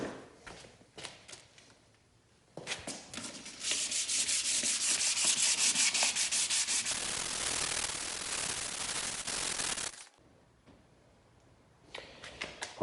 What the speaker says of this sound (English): a pretty heavy sand with the 400